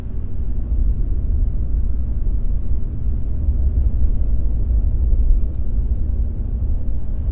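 A Ram 1500 pickup with a Borla S-Type exhaust cruises at a steady 45 mph in 4-cylinder mode, producing a constant deep low drone and road rumble from inside the cab.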